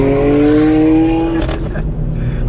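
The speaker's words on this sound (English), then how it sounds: "This Corvette is so loud. I want him to do the little two-step he was doing." A very loud Corvette revs hard with a rising multi-harmonic engine note and then cuts off into crackling, popping two-step bursts. It is close and aggressive, with some voices in the background.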